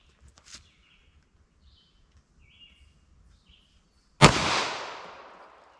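A single sharp 9mm pistol shot from a Smith & Wesson M&P with a 5-inch barrel, fired at a target about 5 yards away, loud and close with a decaying tail, after near silence with faint bird chirps.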